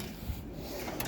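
A tool box drawer slides open in one continuous, muffled rolling scrape, close and steady for about a second, with no talking.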